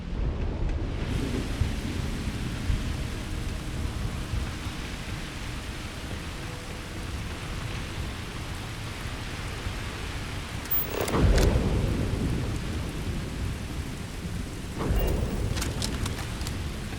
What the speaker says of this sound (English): I absolutely love the rain.